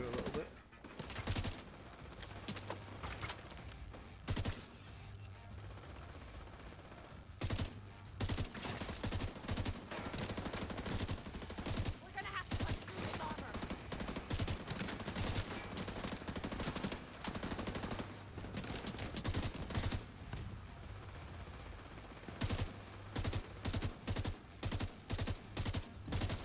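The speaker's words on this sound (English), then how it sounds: "I like this gun for constant shooting" Sustained automatic gunfire from a weapon in The Division 2 rattles in long, rapid bursts broken by brief gaps, loud and close throughout with little else audible.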